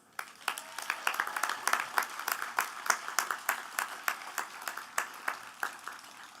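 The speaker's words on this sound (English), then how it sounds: "Let's give them a well-deserved round of applause." Graduation ceremony audience applause, fairly faint and distant, with a thin scattering of individual claps tapering into sparse isolated hand claps.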